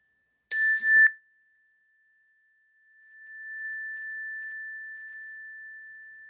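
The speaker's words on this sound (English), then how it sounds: "focus on the sound of the chime" A single mindfulness chime rings out once, bright and clear, then a long sustained tone hangs and slowly swells before fading on its own in quiet surroundings.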